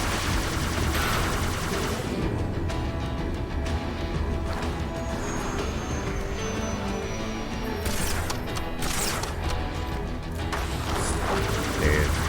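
A mounted turret hammers out rapid bursts in Halo 2 on the original Xbox, clattering gunfire mixed with mechanical whirs and crashes in a busy firefight, under a player's commentary.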